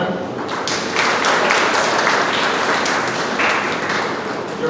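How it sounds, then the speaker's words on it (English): A round of applause from the audience at a school induction ceremony, dense, steady clapping from many hands that swells and carries on for several seconds. "Let's have one more round of applause for him."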